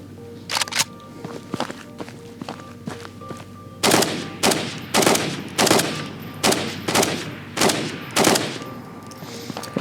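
Gunfire cracks out in a Ghosts of Tabor firefight, a few scattered shots followed by a run of sharp, evenly spaced loud reports roughly every half second, close and punchy.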